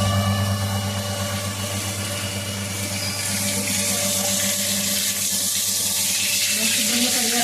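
Tap water runs steadily into a sink as gongura leaves are washed, a continuous broadband splashing hiss with a low hum underneath, close and fairly loud throughout.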